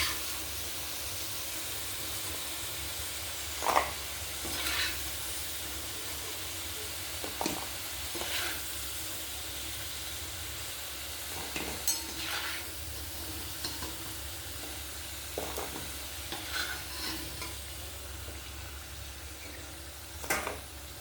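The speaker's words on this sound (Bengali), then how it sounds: "আলুগুলো ব্রাউন করে ভাজা হয়ে গিয়েছে, এখন নামিয়ে নিব।" Potatoes fry in oil in a pan, with a steady sizzle throughout and occasional sharp scraping sounds as they are stirred.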